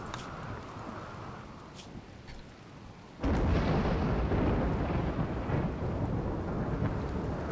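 A thunderstorm in the video game RimWorld: steady rain, then a sudden heavy roll of thunder that stays loud and rumbling to the end, with no talking.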